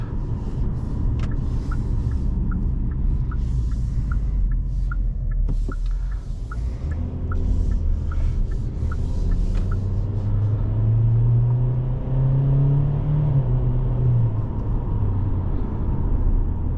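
A 2024 Hyundai Kona SEL with a CVT is driven hard from inside the cabin, its engine droning and rising through simulated shifts over a steady road rumble, with a faint ticking indicator partway through.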